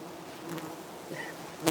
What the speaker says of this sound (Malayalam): വളഞ്ഞിട്ടേക്കാണ് നമ്മളുടെ ഈ ഒരു തേനീച്ച കൂട്ടം നമ്മളെ